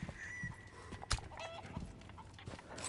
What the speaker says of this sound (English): However, I made that chicken lay an egg.